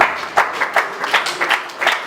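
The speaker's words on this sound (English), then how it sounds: "Please, another round of applause for Mommy Marion." Brief, uneven applause from an audience at a youth movement's 20th anniversary celebration, several loud claps close to the microphone mixed with a scattered crowd.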